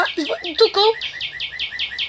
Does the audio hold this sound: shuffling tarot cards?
no